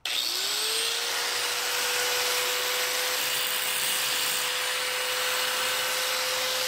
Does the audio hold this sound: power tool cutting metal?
yes